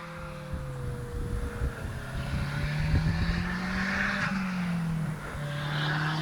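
A Durafly Rare Bear RC airplane flies in to land in windy conditions. Its steady droning motor note rises and falls in pitch as it passes, with wind noise and no talk.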